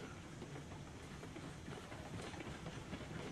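A freight train in the railroad sim Railroads Online rolls along steadily with a dense, even rumble and faint clickety-clack, continuous and moderately quiet with no voices.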